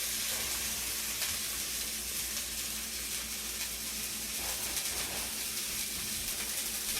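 Filet mignon searing in a very hot frying pan, a steady, dense sizzle that holds at an even level throughout with no talking.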